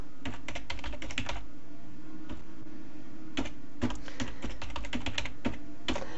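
Close computer keyboard typing in bursts of quick clicky keystrokes, pausing briefly before resuming, over a steady low background hum.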